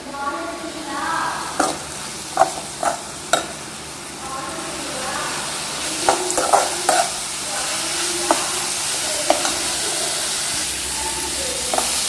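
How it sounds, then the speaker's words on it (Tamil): Onions sautéing in a hot pan, a continuous loud sizzle with intermittent scraping and stirring strokes, close by and without talk. "வெங்காயம் நல்லா வதங்கட்டும்."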